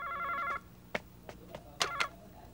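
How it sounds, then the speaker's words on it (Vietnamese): A telephone rings indoors with a warbling electronic trill that stops after half a second, followed by a few scattered clicks and knocks at low level. "Con đi nghe điện thoại đi."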